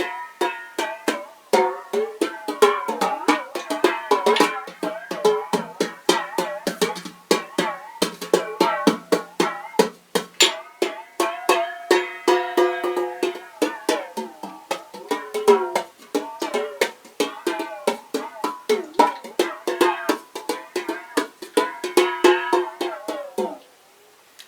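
A found-object hand drum with water inside is struck in quick repeated taps, with the pitch of its resonant tones bending as the water shifts, played close and continuously for about twenty-four seconds.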